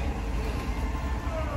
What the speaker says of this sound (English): We're on a little tourist train.